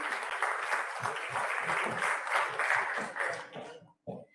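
Applause from an audience at an Indian university celebration ceremony, a burst of clapping that holds steadily for about three seconds, then tapers off, followed by a short thump near the end.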